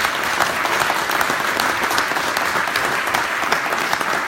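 A live audience gives a sustained round of applause at a cycling team launch event, dense even clapping from a crowd of moderate size, continuous and fairly close, with no speech over it.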